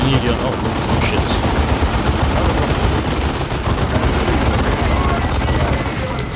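Dense, continuous gunfire and battle noise from the Dawn of War 2 strategy game, a loud sustained barrage of rapid shots and booms running without a break for several seconds.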